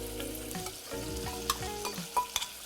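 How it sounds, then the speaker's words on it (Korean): Vegetables and garlic are stir-fried in a pan with white wine and whole tomatoes added, giving a steady close sizzle with scraping stirs and a few sharp clinks, no voices. "자, 볶아주다가 화이트 와인. 자, 이렇게 볶아줍니다."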